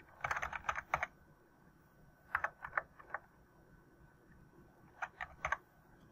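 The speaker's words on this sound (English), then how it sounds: "And so you go back and type in start." Soft keystrokes on a computer keyboard come in three quiet bursts of several taps each, separated by pauses, close and clear against a faint background hum.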